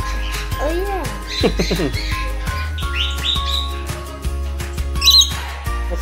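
Small birds chirp and squawk in quick, busy bursts close by, over a low steady hum, with some voices mixed in.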